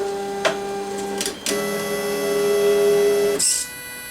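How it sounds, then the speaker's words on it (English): A Reprap Wilson 3D printer homes all three axes, with stepper motors whining in steady tones that shift pitch as each axis moves, then a short higher burst near the end. "when we issue that command, that's going to tell the machine to home all three axes"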